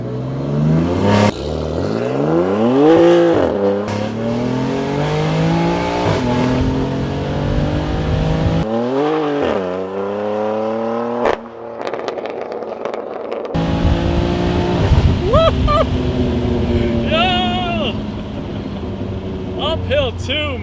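A BMW F80 M3 with a stage 2 tune revs up hard uphill through several rising gear pulls, loud and close, with brief shifts between them and voices talking over it.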